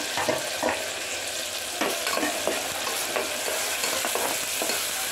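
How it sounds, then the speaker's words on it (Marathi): Ground masala roasts in a pan for chicken rassa with a loud, constant hiss of frying, punctuated by repeated spatula scrapes and stirring strokes close by. "याला मस्त कलर येईपर्यंत भाजून घेते."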